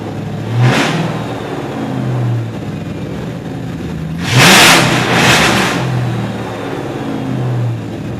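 A Mustang GT with a swapped engine and no mufflers runs loud and rough at close range, with two sharp revs rising over the steady idle.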